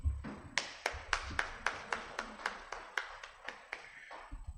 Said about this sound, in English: A big round of applause for the Speaker of the Central Youth Regional Parliament.